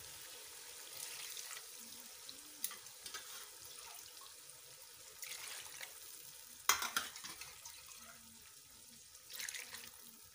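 Water pours into a pan of beef curry with potatoes and gets stirred, giving a faint splashing and sloshing with soft spoon scrapes and a few sharper clinks, close by and without voices.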